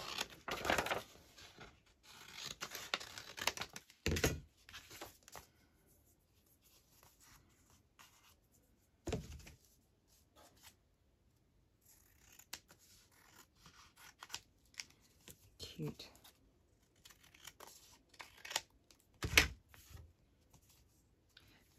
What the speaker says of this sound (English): Okay, and then I'll just cut that along there.